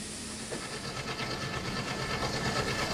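The Kapotaksha Express rolls through a big curve, a steady loud hiss and rumble of the moving train with faint rhythmic wheel clatter and no voices.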